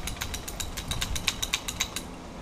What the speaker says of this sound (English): So what I'm doing here is cutting a few PVC pieces to tee off of the Rusco spin-down filter.